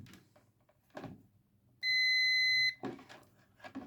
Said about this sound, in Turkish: Ölçü aletimiz buzzer konumunda.